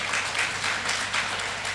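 Audience applause for the Minister of Education at a joint special event, a steady wash of many hands clapping that stays even and fairly loud throughout the short stretch.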